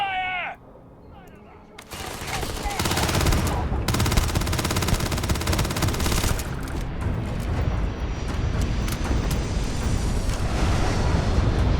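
Starfield firefight over a ship: after a brief line of speech, sustained loud machine-gun bursts and rapid gunshots rattle on for several seconds, dense and close, with booming impacts.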